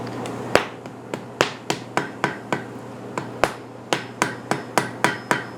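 Hot metal is hammered at the anvil for a forge weld, a run of about eighteen sharp, ringing blows, near and loud, spaced unevenly at first and then falling into a steady, quicker rhythm.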